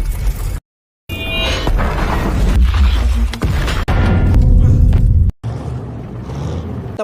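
Tank cannon fire and a blast in a brutal tank duel, with loud booming shots and rumbling explosions broken by sudden cuts to silence, heavy low-end impacts dominating throughout.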